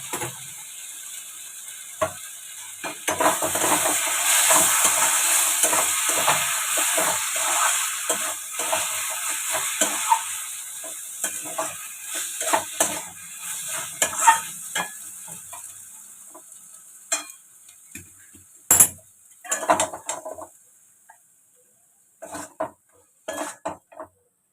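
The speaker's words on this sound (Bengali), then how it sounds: "এবার ঢাকাটা খুলে একটু নাড়াচাড়া করে নামিয়ে দেবো।" Pumpkin leaf ghonto with chana dal being stirred in a pan, with a spatula scraping and clinking against the metal in an irregular rhythm beside steady frying sizzle, trailing off into a few sharp isolated knocks near the end.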